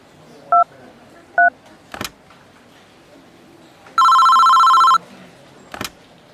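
Telephone keypad tones: two short separate beeps, then a long steady dual-tone note lasting about a second, clear and close, with a couple of faint clicks between and no talking.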